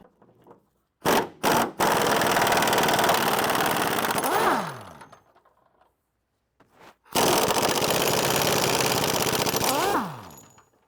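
Classic car body bolts being removed with an impact tool during a frame swap, two long, loud mechanical rattling bursts, each preceded by short blips and winding down at the end, close up.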